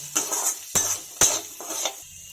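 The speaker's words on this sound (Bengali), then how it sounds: "এবার এটা আমি ভালোভাবে নেড়ে নেব।" Bread upma stirred in a pan with a metal spoon: four distinct scraping, clinking strokes against the metal, close and fairly loud, with a faint sizzle underneath and no voices.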